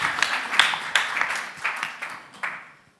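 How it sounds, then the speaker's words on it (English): An audience at a startup prize semi-final applauds with a burst of clapping that quickly thins out and fades to silence within a few seconds. "Big round of applause, thank you."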